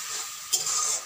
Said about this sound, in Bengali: দেখুন এখন আমি মশলাগুলোকে একটু নেড়ে চেড়ে কষিয়ে নেব।